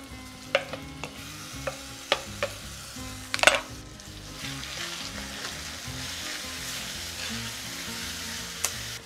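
Green masala paste fries with browned onions for a prawn curry, a steady close sizzle broken by several sharp scrapes and taps of a ladle as it is stirred, with no voices.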